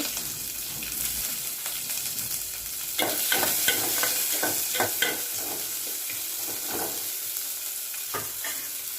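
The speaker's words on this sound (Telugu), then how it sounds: "ఆయిల్లో ఎండుమిర్చి ఆవాలు కరివేపాకు ఉల్లిపాయలు వేసుకొని కలుపుకోవాలి" Dried red chilies, mustard seeds, curry leaves and onions fry in hot oil with a steady sizzle, while a spoon stirs and scrapes the pan in a quick run of strokes. The sound is close, with no talking.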